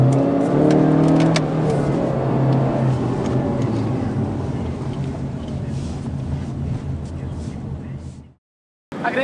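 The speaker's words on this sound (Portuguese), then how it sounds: "Veja que o carro te pede para você dar uma acelerada" A Honda Civic 10th-generation engine revs up close by, a steady loud roar with some wind noise, then cuts out abruptly near the end.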